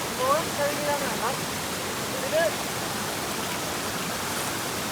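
Viripara waterfall near Mankulam in Munnar, Kerala, gives a dense, steady roar of rushing water that fills the whole clip, with faint voices briefly audible over it near the start.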